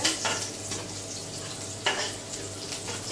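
Chili and onion sizzle in a frying pan, a continuous hiss with two brief louder bursts of sputter and stirring, close and alone.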